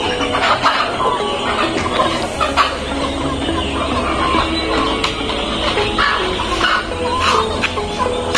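Chickens cluck and fuss at dusk as they are put into their coop, a busy overlapping chatter of hens close by, with occasional louder squawks and scuffling throughout.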